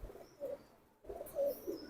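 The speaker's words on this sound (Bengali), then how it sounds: "এই যে দেখেন কবুতরটি" A military pigeon kept in a pen gives soft, low coos, two faint bursts separated by a short pause, heard quietly without talk.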